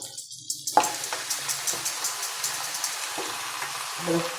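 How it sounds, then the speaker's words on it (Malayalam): Marinated chicken drops into a pan of softened tomatoes and sizzles steadily up close, with light stirring and scraping clatter over the frying hiss. "ഈ വാടിയതിലേക്ക് നമുക്ക് നമ്മുടെ ചിക്കൻ നേരത്തെ കുഴച്ച് വെച്ച ചിക്കൻ ഇട്ട് കൊടുക്കാം"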